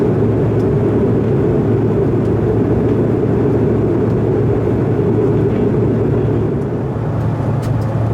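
Inside the cabin of a Bombardier CRJ900 airliner in flight, a steady, loud, broadband engine and airflow roar drones without change throughout, with no voices.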